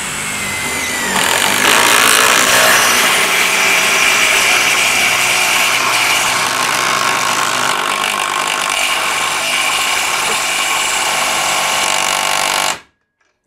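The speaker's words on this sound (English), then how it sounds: "I'm just going to drive each of them in, see how it does" A power tool drives 5.5-inch lag bolts into wood without pre-drilling, holding a loud, continuous grinding whine that strains steadily for about twelve seconds before cutting off abruptly.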